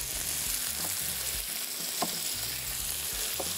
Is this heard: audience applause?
no